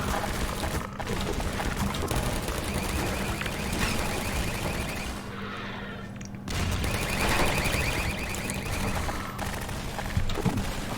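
Automated turrets firing rapid continuous bursts in Half-Life 2, a dense rattling fusillade of gunfire that briefly drops out midway before resuming, with alarm-like tones and combat noise throughout.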